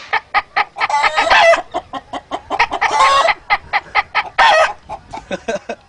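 A human voice imitates a hen squawking after laying an egg, with a rapid run of sharp, loud, close clucks and several longer drawn-out cackles.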